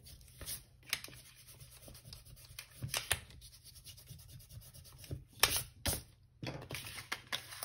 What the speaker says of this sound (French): je vais pouvoir gommer mes traits